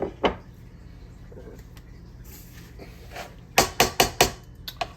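A pot is moved aside and a casserole dish handled on a kitchen counter while cooking au gratin potatoes: a few scattered knocks, then a rapid run of sharp clattering ceramic and metal clunks near the end.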